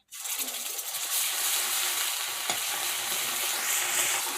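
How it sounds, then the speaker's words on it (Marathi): Onion-tomato paste hits hot oil for an egg curry and sizzles loudly at once, a dense, continuous frying hiss up close with faint stirring scrapes underneath. "आता हे व्यवस्थित तेलात परतून घ्या"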